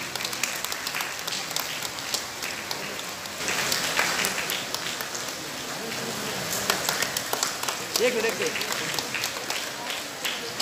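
An audience at a World Unani Day celebration in Hyderabad applauds to welcome a speaker, dense continuous clapping from many hands throughout, with a voice faintly under it.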